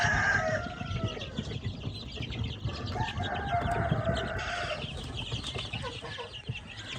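Heritage breed chickens and young chicks on a farm clucking and crowing continuously, a busy, close flock chorus with overlapping calls throughout.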